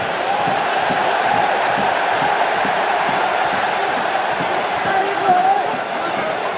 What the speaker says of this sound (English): The crowd have got right behind the Parisians.